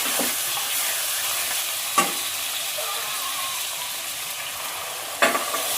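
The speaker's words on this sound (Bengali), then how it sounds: "চিংড়ি মাছটা দেওয়ার পরে আমি এটা আরেকটু কষিয়ে নেব।" Prawns sauté in a pan for a coconut-milk prawn curry, giving a steady sizzling hiss. Two sharper spatula scrapes stand out, one near the middle and one close to the end.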